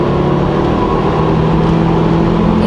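A 2021 Ford Bronco with the 2.3 liter engine pulls hard at full throttle, a loud, steady engine drone with road and wind noise heard from inside the cabin.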